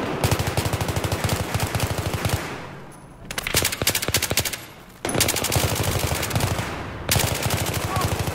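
Rapid automatic gunfire from a heavy-recoil gun in a video game comes in loud, dense bursts separated by short pauses, with a voice now and then underneath.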